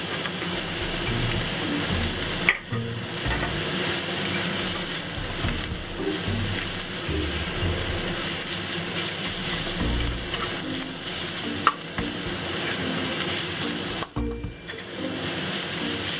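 Leaf tripe hitting a hot wok and stir-fried with pickled sour mustard, giving a loud, dense, continuous sizzle broken by a few sharp scrapes and knocks from the utensils.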